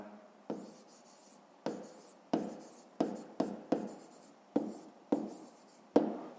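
Pen or pencil writing on paper during a fifth-grade maths exercise: a close series of scratchy strokes in short bursts with brief pauses between them, with no talking.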